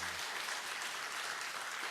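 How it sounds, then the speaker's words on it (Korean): A church congregation claps together to welcome a newcomer, a dense, even wash of applause filling the room from start to finish without pause. "박수로 환영하겠습니다"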